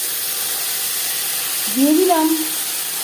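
Onion, ginger and green chili paste sizzles in hot oil with five-spice seeds in a wok already used to fry pangas fish. A steady, bright hiss runs throughout, and a voice speaks briefly over it.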